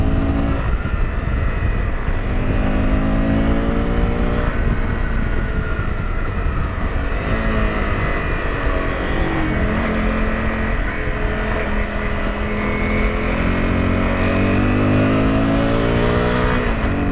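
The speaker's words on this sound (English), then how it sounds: "I'm not even going full throttle before I'm back into setting up and leaning for the next corner." A 250cc motorcycle engine carries a rider along a winding mountain road in Colombia. The close, loud, continuous drone rises and falls in pitch as the throttle eases in and out through the corners.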